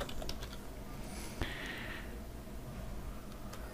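Keys on a computer keyboard clatter in a short burst of typing as a plugin name is entered into a search box, close and fairly quiet, with no talking.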